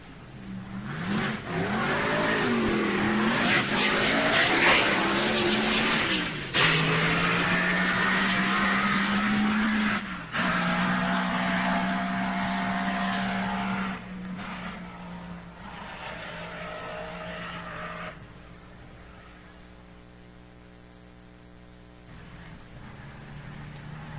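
A vintage Formula One Grand Prix race car engine from the 1937–1960 era roars loudly and hysterically, its rising and falling revs screaming through several passes before easing into a quieter, fading drone.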